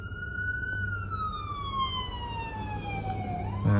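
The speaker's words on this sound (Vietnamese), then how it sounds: "cảnh sát hú đó các bạn" Police siren on a city street in an old quarter, a steady wailing tone sliding slowly downward as the vehicle passes, loud and close over street noise, ending with a louder burst.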